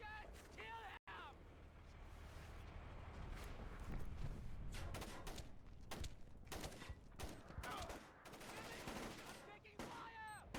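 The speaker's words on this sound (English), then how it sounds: "We've got incoming shots!" Dense gunfire and bursts of automatic fire from a Splinter Cell: Chaos Theory shootout, loud and continuous over the full stretch, with voices shouting over the shooting.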